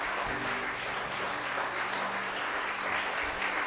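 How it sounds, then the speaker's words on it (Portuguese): A church congregation at an evening celebration service in Porto Alegre breaks into sustained applause, a dense, even wash of clapping from many hands filling the room without a break. "Uma salva de palmas para o Senhor nessa noite."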